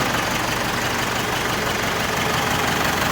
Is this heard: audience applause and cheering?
no